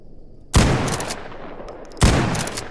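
Two loud gunshots from a shotgun firing buckshot in the video game Stalker Gamma, each a sharp blast with a lingering tail, about one and a half seconds apart, with no talk.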